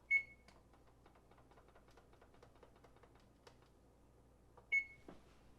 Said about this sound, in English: So I'm going to put my timer on.